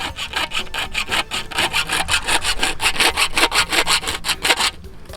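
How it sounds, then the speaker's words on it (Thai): Steady back-and-forth sawing with a hacksaw blade, about five strokes a second, rasping and close, running alone without pause until it stops near the end. "นำใบเลื่อยตัดเหล็กมาเลยครับ"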